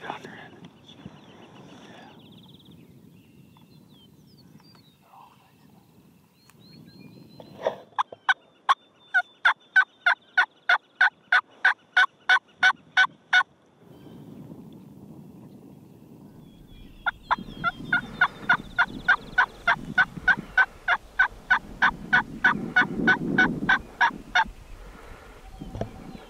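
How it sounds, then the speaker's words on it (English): Wild turkey gobblers in an open Iowa field during a hunt, gobbling in two loud bursts of rapid, rattling calls, the second run overlapping rustling and a low rumble. "There's a hen to the left or a gobbler. It's a gobbler to the left."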